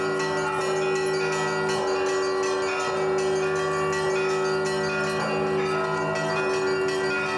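Church bells ring out at an Orthodox cathedral, the Spaso-Preobrazhensky cathedral, in a loud, dense, continuous peal of overlapping tones with sustained resonant hums and repeated strikes, no voices.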